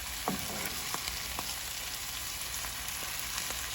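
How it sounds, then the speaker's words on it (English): Vegetables stir-fry in oil for Singapore veg fried rice, a continuous dense sizzle with occasional light scrapes and ticks of the spatula, close and even throughout. "we can just stir fry it for 2 more minutes"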